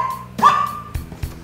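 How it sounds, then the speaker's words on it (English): A short dog bark sound effect: one sharp, close bark followed by a few faint thuds, brief and loud. "Dog bark sound effect."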